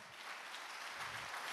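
Church congregation applauding during a Portuguese-language worship service, a steady, fairly faint wash of many hands clapping with no voices on top.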